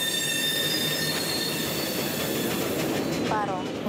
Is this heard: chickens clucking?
no